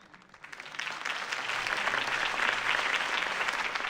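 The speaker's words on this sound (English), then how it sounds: "If only Mr. Wayne, my campaign's largest backer, could have heard that applause" Applause for a campaign speech in the Batman Telltale video game swells up from quiet to a full crowd clapping, holding steady and dense through the remaining seconds.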